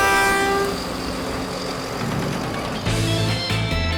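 A Sri Lankan passenger train rumbles steadily with a loud horn blast at the start and clanking, rattling carriage noise throughout; no voices.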